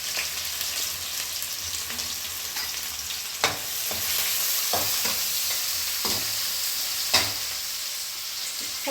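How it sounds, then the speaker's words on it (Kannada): Garlic, ginger and onion fry in hot oil with a steady crackling sizzle, punctuated by sharp spatula taps and stirring scrapes against the pan every second or two. "ಎಣ್ಣೆ ಕಾಯ್ದಿದೆ. ಹಾಂ, ಬೆಳ್ಳುಳ್ಳಿ, ಶುಂಠಿ, ಚಟಾಪಟ, ಈರುಳ್ಳಿ ಹಾಕ್ತಾ ಇದ್ದೀನಿ."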